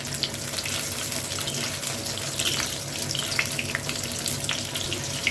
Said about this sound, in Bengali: আমি উল্টে পাল্টে ভালো করে এটা ভেজে নিচ্ছি।